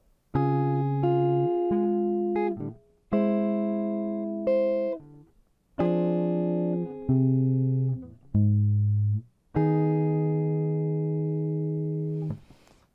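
Fingerstyle guitar chords ring out in several sustained phrases, a melody note sitting on top, each chord decaying slowly before the next.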